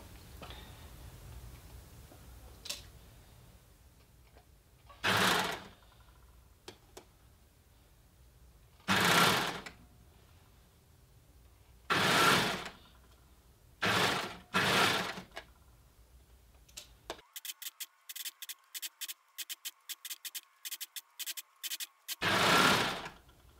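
An overlocker sews the seam of a jersey dress in several short, loud whirring runs separated by pauses, then a long stretch of quieter rapid stitching ticks and a final burst.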